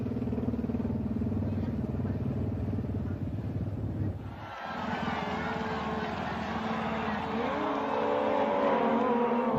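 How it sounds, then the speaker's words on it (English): BMW motorbike and sidecar combinations roar past in a race, a steady engine drone giving way to a brighter, louder passing rush with rising revs, heard alone without talk. "Motorbike and sidecar combinations also had the advantage of providing spectacular racing"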